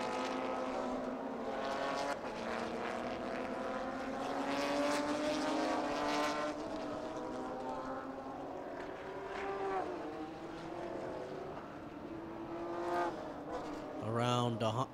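GT race cars from the Supercar GTM Plus, GTM and GT Asia field on a circuit in Thailand, engines rising and falling in pitch as several cars pass, loud and sustained, with a sharp engine note at the end.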